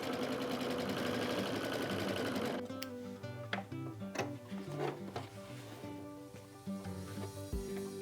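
A sewing machine stitches a quilt-as-you-go seam with sashing, running in a fast steady buzz for under three seconds, then stopping, followed by quieter scattered clicks and handling of fabric.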